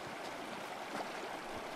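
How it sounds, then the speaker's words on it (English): A river in the Tribe builder game flows in a steady, broadband rushing wash, even and continuous throughout, moderately close with no talk over it. "Oh, a nice little river here."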